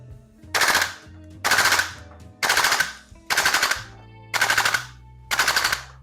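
A Salvo Precision MWS MCX Spear LT V2 airsoft gas blowback rifle fires six short full-auto bursts at an even pace, each a sharp rattling clatter of rapid shots, loud and close with near silence between bursts.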